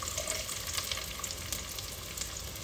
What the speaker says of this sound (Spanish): Y aquí voy a estar pasando a dorar nuestra cebolla